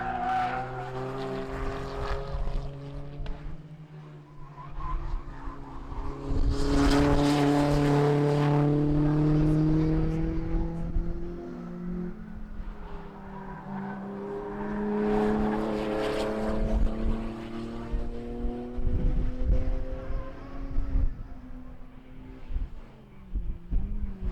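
A Honda Integra race car fitted with a 1UZ V8 passes on a circuit, its engine note rising and falling through two loud, swelling passes with gear changes, nearby and dominant.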